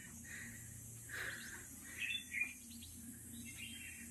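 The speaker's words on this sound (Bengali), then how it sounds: "শোনা যাচ্ছে, প্রচুর পাখির ডাক।" Several birds chirp and call in dense forest near Port Blair in the Andamans, a few brief bright calls standing out over a steady low hum, moderately distant and fairly quiet.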